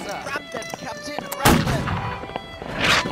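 Ship's cannon fire in the naval battle game Holdfast: a heavy boom lands midway and a second blast follows near the end, with faint voices and clatter underneath.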